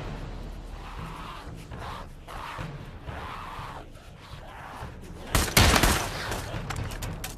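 A burst of gunfire in the video game Pavlov crackles loudly near the end, following a stretch of muffled background noise and faint voices.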